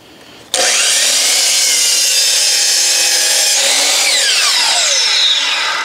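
A saw bites into a wooden board for a garage door pergola, starting abruptly and cutting in one loud, continuous pass close by, with a harsh rasping whine that holds for the rest of the clip.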